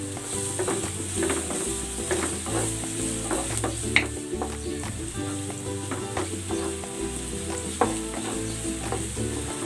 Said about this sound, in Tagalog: Lulutuin natin ito dito sa olive oil hanggang sa mag-golden brown.